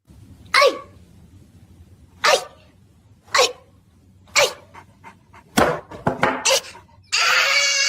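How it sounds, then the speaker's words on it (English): A Chihuahua and a big dog in a played-back video pant, sneeze and bark in short loud bursts about a second apart, ending in a dense rush of noise; no talk over them. "Roger's the Chihuahua, and that's me, the big dog, laughing my ass off"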